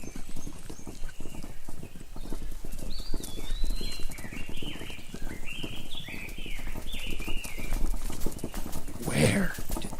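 Steady clip-clop of horses' hooves approaches through an audio drama soundscape, with faint bird chirps and a short snort or whinny near the end.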